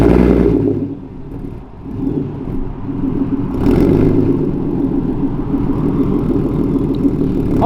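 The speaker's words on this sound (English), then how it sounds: "Alrighty, let's give her a quick start." A Ford Mustang S550 fitted with a Ghost Cam tune starts up, settling into a loud, steady, lumpy low idle rumble heard alone with some wind noise.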